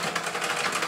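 A sewing machine runs a short burst of stitching, sewing back and forth on fabric, a quick continuous mechanical whir heard close up.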